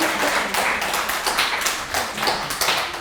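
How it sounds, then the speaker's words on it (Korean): Audience at a book talk show clapping steadily, a dense, continuous patter of many hands filling the room for about three seconds with no talk. "보통 이 타이밍에 박수를 쳐주시는 게 제일 감사합니다"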